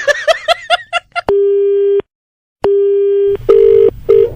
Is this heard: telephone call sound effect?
yes